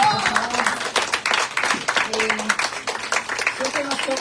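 An audience at a poetry event applauds poet Osiris Mosquea, a steady patter of clapping hands from a crowd, close and continuous, with a voice speaking over it.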